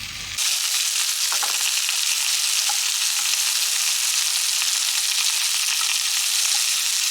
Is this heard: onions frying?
yes